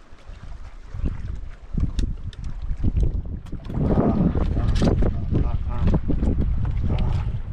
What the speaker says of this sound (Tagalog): Grabing hangin ay.